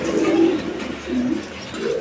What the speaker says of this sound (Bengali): এই মুহূর্তে আমরা দেখতে পাচ্ছি এখানে একটা সিঙ্গেল কবুতর আছে